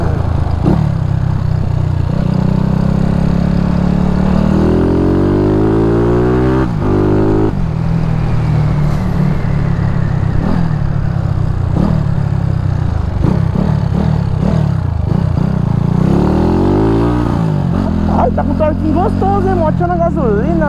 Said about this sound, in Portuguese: Vou pegar um pouquinho de rodovia só pra mim sentir como que tá essa moto aqui